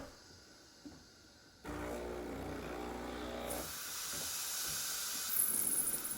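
An espresso machine's steam wand steams six ounces of milk, a continuous hiss that jumps louder and rougher partway through, then shifts to a brighter, airier whoosh, close and with no voices.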